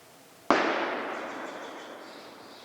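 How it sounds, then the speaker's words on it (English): Distant gunshot from hunting in the Oregon woods, a single sharp crack followed by a long rolling echo that fades slowly over a quiet outdoor background. "Somebody shot something."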